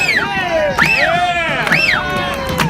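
A crowd in New York City cheers and shouts in bursts, loud whooping voices rising and falling close by, with bright excited calls over a busy background of noise.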